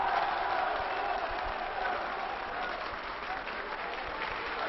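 A crowd applauds a boxer at the Élysée Montmartre after a bout. The clapping is steady and moderately distant, holding at an even level throughout with no talk over it.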